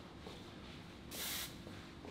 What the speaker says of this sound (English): Just finishing with some hair, sorry, it's now called Fixer Spray.